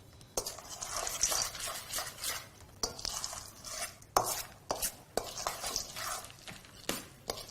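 A spoon stirs soaked linseeds with a splash of water in a bowl, making irregular wet scrapes and clinks against the dish in uneven bursts, close up and fairly quiet, with no talking.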